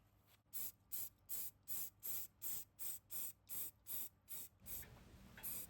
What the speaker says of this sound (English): I take it outside in the garden to spray.